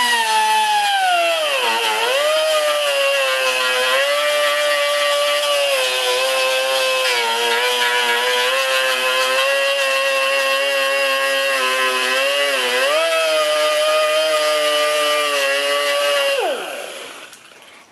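A power tool whines steadily while trimming a cracked urethane plastic bumper cover, a loud sustained tonal buzz with brief pitch dips under load, winding down at the end.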